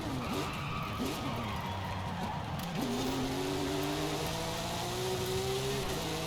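A Porsche of about 290 horsepower cornering in a driving video game, its engine tone rising and falling through gear changes, with tyre skidding noise around the bend.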